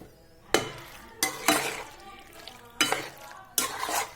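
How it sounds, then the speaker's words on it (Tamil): Pasta in white sauce with melted cheese and oregano being stirred in a pan, giving several distinct scraping and clattering bursts with faint sizzling between them. "இதை போட்டு நல்லா மிக்ஸ் பண்ணிக்கோங்க"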